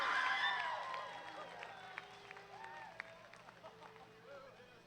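A crowd at the 2024 Box Elder County Junior Livestock Show market lamb showmanship applauds and cheers for the champion, loud at first and then fading into scattered clapping and crowd murmur.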